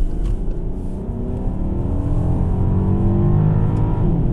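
A 2017 Volkswagen Passat running on regular gas accelerates hard, a steady rising engine drone and road roar heard from inside the cabin, continuous and fairly loud with no talking.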